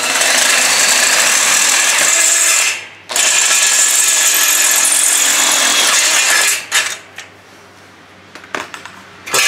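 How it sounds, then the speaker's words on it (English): A loud, continuous power tool grinds off metal bolts on a kiddie bike cart in long, steady bursts, cutting out briefly between runs, then trailing off into quieter clatter. "I'll end up cutting or just grinding off the bolts"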